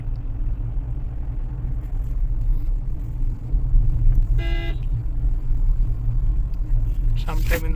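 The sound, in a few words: car horn honking in traffic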